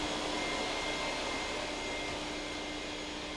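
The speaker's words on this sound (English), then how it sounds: "I vacuum out electrical boxes, heating ducts," A vacuum cleaner sucking out electrical boxes and heating ducts on a drywall job gives a steady, close, continuous whooshing roar with no talking.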